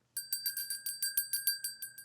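A notification bell sound effect rings in a quick, even string of about a dozen bright metallic strikes, loud and close, each with a short shimmering decay and no talking.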